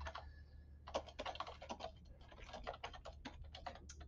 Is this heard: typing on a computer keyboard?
yes